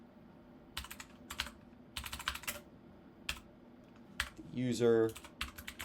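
Bursts of clicky typing on a computer keyboard come in short irregular runs, fairly close and moderately quiet, while a voice speaks briefly over the keys near the end.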